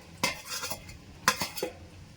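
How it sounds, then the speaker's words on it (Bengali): A spoon scrapes and clinks twice through ridge gourd shukto with fried bitter gourd in a pan, two short bursts of stirring close by over a faint sizzle. "এবারে আমি ভালো করে নাড়িয়ে এতে আমি ভাজা বড়িগুলো দিয়ে দেব"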